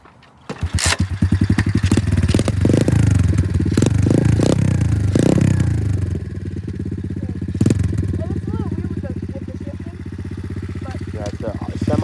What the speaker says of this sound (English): he's gonna hop on the bike and take it for a little spin